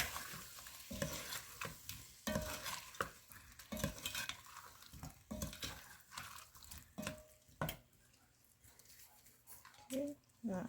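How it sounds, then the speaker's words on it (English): Goat head isi ewu is stirred by hand with onion and uziza leaf in a bowl, giving wet squelching mixing strokes and occasional utensil clinks in an irregular rhythm, interrupted by quiet pauses. "add a little more uziza leaf, a little bit of my onion as well to give it a special kind of flavor while you're mixing"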